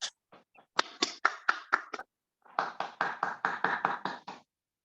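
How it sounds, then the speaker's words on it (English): Online participants at a Toastmasters club contest clap over their connections: two short bursts of scattered, uneven hand claps, fairly close and separated by a brief pause, with no talking. "give a big round of applause for their participation"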